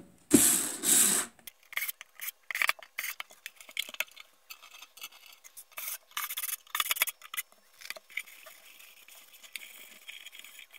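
Screws tightened down on a Knight KG-650 signal generator: a burst of handling noise at the start, then intermittent close rasping, ratcheting turns and small mechanical clicks.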